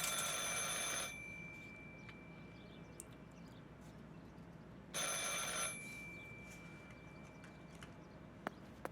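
Telephone bell ringing inside a video game, two distinct bursts of a bright electronic ring about four seconds apart, moderately loud over a quiet ambient background with no talking.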